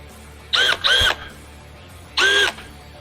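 A Milwaukee M12 FDDX brushless cordless drill driver whirs in three short bursts, two quick ones close together, then one more after a pause, each spinning up and winding down.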